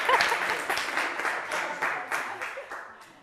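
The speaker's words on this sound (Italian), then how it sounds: "Fatevi un applauso" A round of applause from the audience of a quiz show for contestants who answered correctly, lively at first and then gradually fading over a few seconds.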